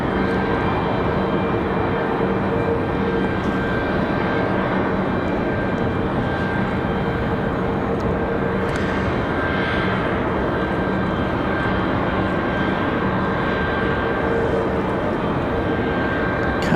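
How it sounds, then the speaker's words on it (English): Boeing 717 jet airliner engines at Raleigh-Durham airport, a continuous broadband roar with a whining tone, loud and steady throughout with no voices. "Kind of sounds like that 717."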